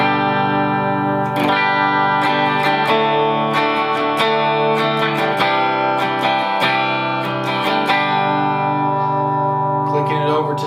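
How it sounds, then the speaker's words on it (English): Electric guitar with a Seymour Duncan SH4 JB bridge humbucker in an Epiphone Les Paul, played clean and dry: strummed chords and picked notes ring out loud and close, alone with no voices. "this is the bridge position with the Seymour Duncan SH4 JB. Clean tone, dry."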